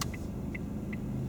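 A learner driver's car idles with a steady low engine rumble as it comes to a stop, with evenly spaced light ticks repeating over the hum.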